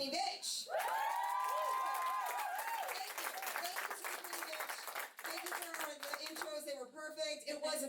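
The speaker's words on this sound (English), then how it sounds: "can we give a great big round of applause to the Queenie Bitch?" Applause with whoops and shrill cheering from a lively crowd at a comedy or performance show, clapping dense and bright under excited voices and shouts throughout.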